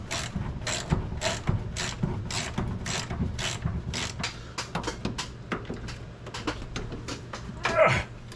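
Ratchet removing the master cylinder bolts on a rusty 1980 Chevrolet C10 truck, a quiet, close series of rapid clicking bursts in an uneven rhythm, repeated many times.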